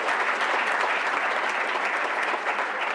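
Audience applause at a business meeting: steady, dense clapping that stays loud and even throughout, with no talking over it.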